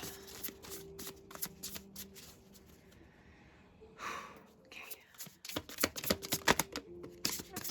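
Tarot cards are shuffled close up in quick riffling bursts with a pause in the middle, then more rapid crisp flutters and slaps, while a soft voice murmurs and whispers underneath.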